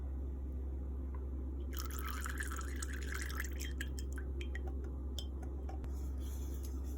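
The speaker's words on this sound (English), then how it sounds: "Now I'm going to add the melted coconut oil to the olive oil." Melted coconut oil is poured into olive oil in a home kitchen, producing a soft liquid trickle and splash for a couple of seconds, then a few scattered drips and light taps over a steady low hum.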